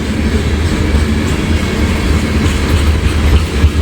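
A heavy freight train hauling oil tank cars rolls steadily past in Hamilton, a continuous loud low rumble with faint rhythmic wheel clatter throughout.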